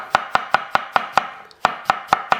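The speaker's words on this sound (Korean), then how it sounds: "나무 도마 소리가 정말 좋은 것 같아요" Crisp, close knife strokes tap through a flat-laid onion on a thin wooden board, a steady run of sharp knocks broken by one brief pause before the rhythm resumes, with no voices.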